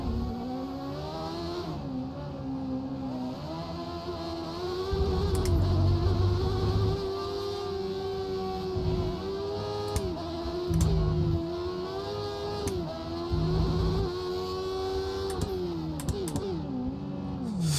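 Formula 1 car engine in F1 2013 revving hard, its high whine climbing and dipping through gear changes, loud and continuous with surges of acceleration and no talk over it.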